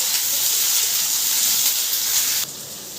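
Chopped onion frying in a pan gives a loud, continuous hissing sizzle that holds steady and drops slightly in level near the end, with no talk over it.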